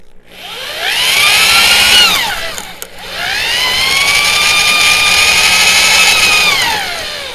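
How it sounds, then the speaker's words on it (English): A power drill whines loudly as it bores into a log bench, two sustained runs with pitch sagging under load, separated by a brief pause. "Sometimes just to get it going, I have to kind of wiggle the drill back and forth"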